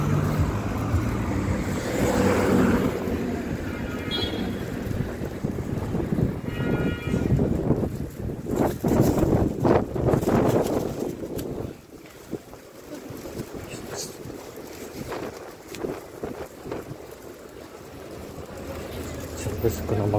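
Strong hurricane wind outdoors in Baku near the railway station park, heavy roaring gusts that rise and fall, with a voice talking intermittently and a brief lull midway before the buffeting returns.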